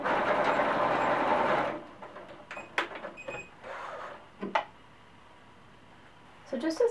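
A sewing machine runs steadily for almost two seconds as it stitches the seam of a handmade cloth doll. Quieter handling sounds and brief clicks follow, and then a short burst of sewing comes at the end.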